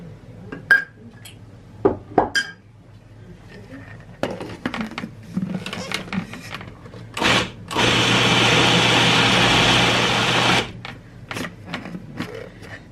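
Heaping tablespoons of brown rice flour go into a mixing bowl, bringing light clinks and taps of the spoon against the bowl, then a loud, steady whir of mixing lasting a few seconds, followed by more scattered clinks.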